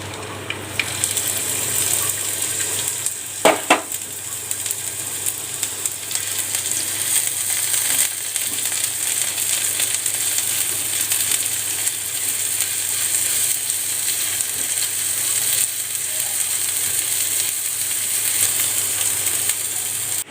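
Onion and dried chillies frying in mustard oil, a steady hissing sizzle that lasts throughout, with a brief clatter near the start.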